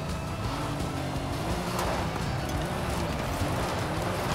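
A car drifts in Forza Horizon 5, a continuous, fairly loud engine roar with tyre noise that stays steady throughout the few seconds.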